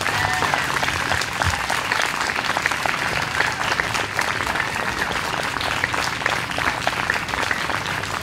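Audience at a youth poetry event applauds steadily, a dense, even roar of many hands clapping that holds at full strength throughout with no pauses.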